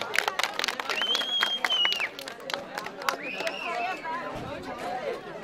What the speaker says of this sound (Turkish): Bir alkış gelir mi Hasan Bey'e?